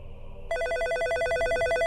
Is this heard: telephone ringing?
yes